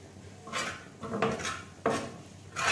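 Spoonfuls of dhaba-style tawa chicken keema scraped and clinked out of a pan into a serving dish, a few separate bursts of metal-on-metal scraping with quiet gaps between.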